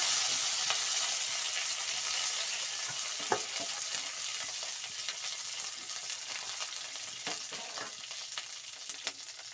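Mustard seeds, curry leaves and chillies fry in hot oil for an alsande kalu usli, a dense bright sizzle throughout with scattered pops and crackles and light stirring, no talking.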